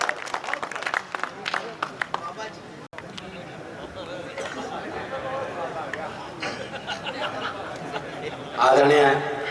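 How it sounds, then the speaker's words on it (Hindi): An audience claps steadily through a Hindi kavi sammelan (poetry recital) in Ambikapur. The applause is a dense, sustained crowd sound with scattered chatter and voices mixed in, swelling louder near the end. "जोरदार तालियां बजाएं"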